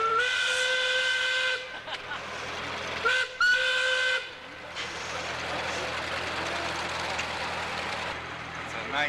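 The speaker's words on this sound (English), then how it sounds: "It's a 1904 steam tractor." A 1904 steam tractor with a shrill harmonic steam whistle giving two short blasts, a brief gap, then a third, before steady hissing, rumbling machine noise carries on close by.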